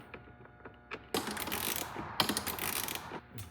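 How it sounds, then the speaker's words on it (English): A ratchet tightening down the battery retainer on a Scag mower, heard as quick rapid clicking bursts, close and fairly loud, with small metallic taps before and between the runs. "Screw these down."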